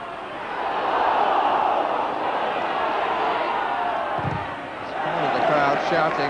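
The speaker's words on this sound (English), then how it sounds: "The crowd shouting." A large football crowd at a 1989 league match roars and shouts continuously, a dense wash of voices that swells and dips, with a brief thud midway and a commentator's voice faintly under the noise near the end.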